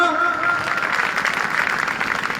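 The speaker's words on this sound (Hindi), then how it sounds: "जोरदार ताली बजाएं रवि निषाद जी के लिए" Sustained applause from an audience welcoming Ravi Nishad at a Suheldev Bharatiya Samaj Party stage show, a dense steady wash of clapping with a faint tonal hum mixed underneath.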